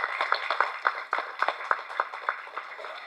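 A press-meet audience in Tamil Nadu claps as guests are called to the stage: a modest crowd of distinct, fairly close hand claps, lively at first and then settling into a steady patter.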